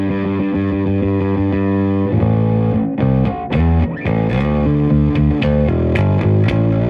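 A bass guitar plays through an EBS Billy Sheehan Ultimate Signature Drive pedal, giving a heavily distorted, gritty tone. It opens with a sustained chord, then plucked notes, loud and close with no voice.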